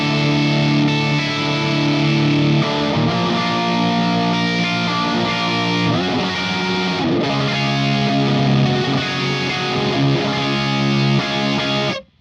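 Heavily fuzzy, distorted electric guitar through an Amped Pink Sabbath amp plugin, playing sustained saturated chords and riffs continuously at full level with no talking, ending abruptly.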